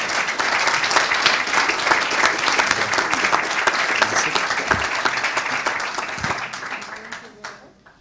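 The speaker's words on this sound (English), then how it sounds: "Just another round of applause for the best streamers of the world" Dense audience applause at a security forum panel, steady and loud for several seconds before tapering and fading toward the end, with some voices faintly underneath.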